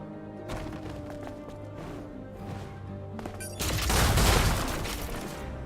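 Rapid video-game gunfire from shooting practice crackles as a dense fusillade of shots, swelling into a louder, heavier burst of firing toward the end.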